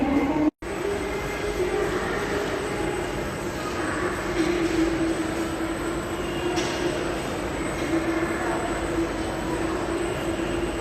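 Trains rumble on the platform at New Delhi railway station during lockdown, a steady loud wash of rail noise with faint squeals and a brief dropout near the start.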